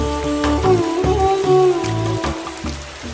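Rain and windstorm, a steady wash of falling rain with gusting noise that holds evenly throughout, with a faint tonal hum in the background.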